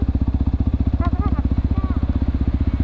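A trail motorcycle's engine idles close up with a fast, steady thumping pulse throughout, as brief speech passes over it.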